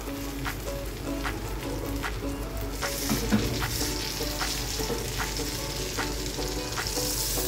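Eggplant omelette (tortang talong) frying in plenty of oil in a pan, a steady close sizzle with scattered pops and crackles throughout.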